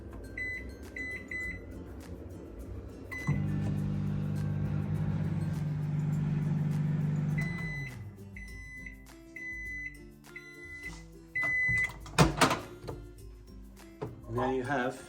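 A microwave oven hums steadily for several seconds while heating a cup, then stops and gives a series of short, clear beeps, followed by clattering sounds.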